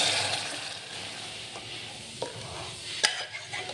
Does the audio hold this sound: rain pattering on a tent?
no